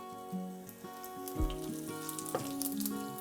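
Fenugreek, cumin and coriander seeds with crushed red chili sizzle steadily in hot oil for a Nepali dal tempering, a close, continuous frying hiss with a few sharper crackles and a brief thump partway through.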